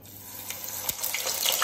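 A chicken nugget frying in bubbling hot oil gives a steady, close hiss and sizzle that builds gradually, with no voices over it.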